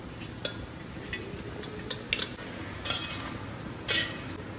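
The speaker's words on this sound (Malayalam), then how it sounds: "നമ്മൾ അരിഞ്ഞു വെച്ചിരിക്കുന്ന നാല് പാവയ്ക്ക ചൂടായ ഉരുളിയിലേക്ക്" Chopped bitter gourd sizzles in a hot uruli pan, with a steady frying hiss, light stirring scrapes and a few sharp clinks of a utensil against the pan, close and moderately loud.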